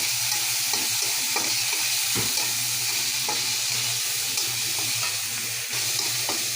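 Onions with tomato and ginger-garlic paste sizzle steadily in hot oil in a pan, a continuous close frying hiss with occasional stirring scrapes and taps, and no one speaking.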